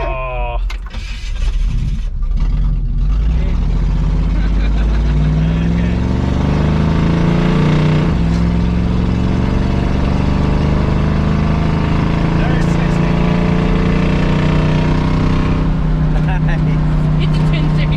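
A 1966 Buick Skylark's engine running steadily after a rolling start, a loud continuous near rumble with rising and falling revs and brief voices early on.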